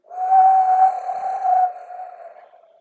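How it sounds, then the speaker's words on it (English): Whistling wind howls in a single drawn-out tone lasting a couple of seconds, rising quickly, holding steady, then fading away alone without talk. "whistling wind howl through the area."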